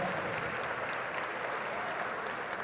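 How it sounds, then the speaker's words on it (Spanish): Audience applause for the women at a political conference in Mexico, a steady dense wash of clapping that holds evenly throughout at moderate level with no voices over it. "pido un aplauso para las mujeres"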